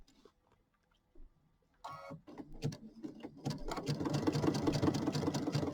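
A sewing machine stitches a quilt block. A few faint clicks and taps come first, then the needle drops and a close, steady run of stitching builds to fill the rest.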